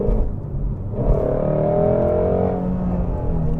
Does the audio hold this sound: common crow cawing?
no